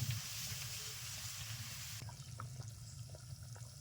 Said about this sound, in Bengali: দশ মিনিট জাল করে নিয়েছি টকবক করে ফুটছে